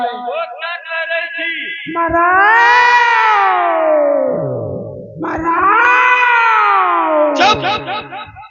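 A pregnant cat yowls during a village folk-theatre show, giving two long, rising-and-falling caterwauls. They are loud and close, with short choppy cries at the start and end.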